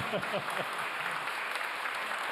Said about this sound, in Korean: 맞으면 박수를 치셔야 됩니다